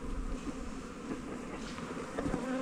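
Bees buzz densely around beehives, forming a close, continuous droning hum that holds steady throughout without any talking.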